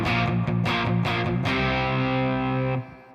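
A distorted electric guitar plays a few choppy strummed chords, then lets a gritty, overdriven chord ring out before it stops abruptly, the amp tone dirty and thick.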